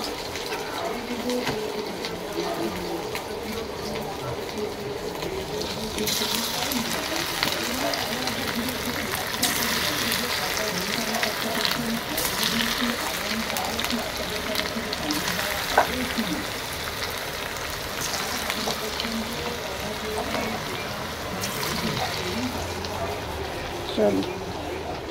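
Chicken cooks in its own released juices in a pan, giving a continuous sizzling fry with occasional stirring clinks, heard under a speaking voice throughout.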